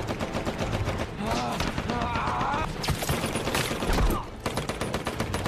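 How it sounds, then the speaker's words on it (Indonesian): Rapid bursts of gunfire in a war film battle against Japanese soldiers crackle continuously, loud and dense, with rattling automatic fire layered over echoing shots throughout. "sembari terus digempur dengan tembakan dari prajurit Jepang"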